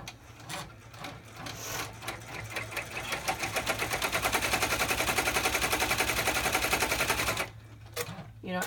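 An embroidery machine stitching an in-the-hoop cross-body bag, a fast steady mechanical rattle of needle strokes building up and running for several seconds before stopping, with quieter handling sounds before and after.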